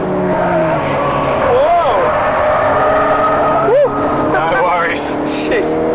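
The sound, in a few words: race car cornering on a track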